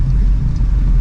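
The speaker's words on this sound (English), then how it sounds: "I'm driving down the road." A car rolls down a road near Santa Rosa, Florida, heard from inside as a brief, loud, steady low rumble of engine and tires with no voices.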